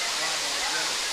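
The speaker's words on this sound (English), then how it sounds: "You can see this waterfall." Waterfall at Anachadi Kuttu, a steady, dense rush of falling water that fills the whole short stretch at an even, fairly loud level with no breaks.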